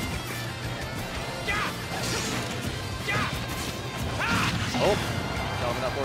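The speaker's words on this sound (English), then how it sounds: "Diving up forward smash." Forward smash attacks landing in a Super Smash Bros match, sharp whooshing swings and crashing hits repeating over dense game noise and continuous excited commentary.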